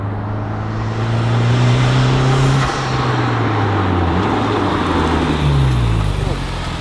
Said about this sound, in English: Yeah, you can definitely hear that turbo screaming now.